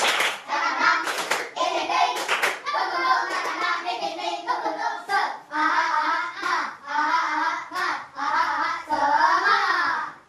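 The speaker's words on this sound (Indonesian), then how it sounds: "Sebelumnya tepuk semangat." Fourth-grade schoolchildren clap a rhythmic spirit chant in a classroom, bursts of claps in patterned rhythm mixed with young voices chanting along, loud and close.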